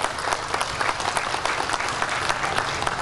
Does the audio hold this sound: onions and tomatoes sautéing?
no